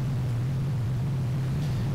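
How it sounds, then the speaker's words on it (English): A steady low synth tone from Arturia Pigments, a sine wave carrier roughened by noise modulation, gives a gritty, buzzing drone under a hiss of noise. "So there's the original sine wave carrier being distorted by the modulator"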